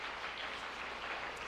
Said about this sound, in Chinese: 啊，拍手。 拍手。